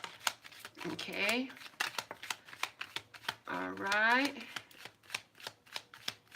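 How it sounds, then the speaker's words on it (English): Tarot cards shuffled by hand in steady riffling bursts across the whole stretch, close and fairly quiet, with someone speaking briefly twice over the shuffling. "it's interesting that I picked them up to shuffle them"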